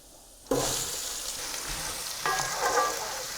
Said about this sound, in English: And then we add the onions once it's sizzling a bit.